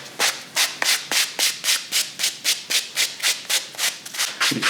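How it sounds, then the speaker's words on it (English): A medium bristle brush scrubs a suede sneaker in a steady rhythm of about fifteen quick, close, scratchy strokes, with no talk. "Medium bristle brush, give it a brush."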